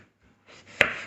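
A knife chops a small piece of capsicum lengthwise on a board, giving one sharp close chop and a brief scraping rustle at the end.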